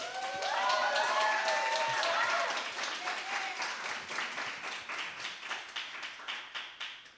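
Audience applause with clapping and a few cheers, loud at first and then thinning to scattered individual claps as it fades.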